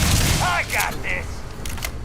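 Gunfire in the video game Starfield comes in a brief burst of sharp shots at the start, followed by quick electronic weapon chirps and fading clatter.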